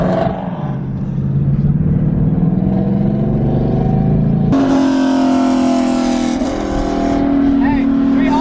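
A Mustang GT's engine revs hard and climbs in pitch, then jumps higher as the wheels spin, loud and close, with a voice briefly audible.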